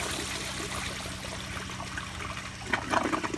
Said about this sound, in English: So yeah, this is a flush and the pressure is turned all the way up, so this is going to be extremely powerful flush